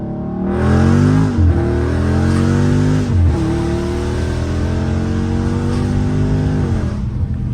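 A Dodge Scat Pack revs hard with its tires spinning, a loud close engine roar that climbs steadily, dips briefly around two gear-like breaks and rises again before cutting off.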